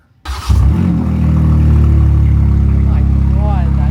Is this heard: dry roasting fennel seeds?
no